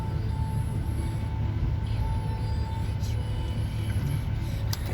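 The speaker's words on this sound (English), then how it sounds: "I think that's the train." A train passes in Goshen, heard as a faint, steady low rumble with a faint squeal from the wheels, picked up from inside a car without any talking.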